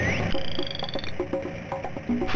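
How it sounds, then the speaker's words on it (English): Red-eyed tree frogs croak in a Go Diego Go! Aztec ABC Adventure TV game from 2007, a run of short, evenly spaced synthetic croaks under a steady electronic backdrop. "You rescued 5 red-eyed tree frogs."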